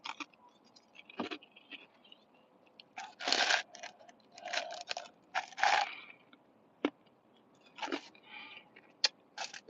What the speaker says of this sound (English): I start chewing some ice, which is a bad habit.